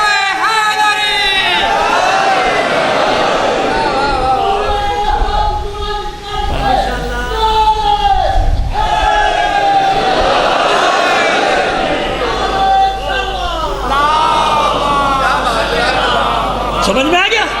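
Large crowd at a Muharram religious gathering in Layyah shouting a slogan together, loud, dense and close, with voices rising and falling in repeated bursts over steady babble.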